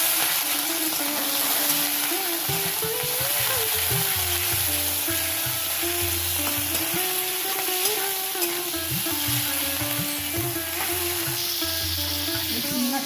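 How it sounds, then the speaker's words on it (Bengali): Prawns frying in oil in a pan give a steady, close sizzle throughout, with repeated stirring scrapes and knocks of a spatula against the pan. "চিংড়ি মাছটা ভাজবো এবার"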